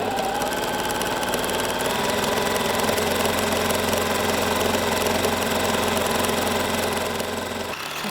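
A sewing machine runs steadily, stitching the front and back sleeves of a handmade children's suit together, a continuous close mechanical whir that stops near the end.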